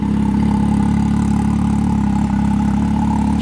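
A 2020 Can-Am XMR Turbo RR side-by-side idles close by, a smooth, steady low drone with an even pulse and no revving.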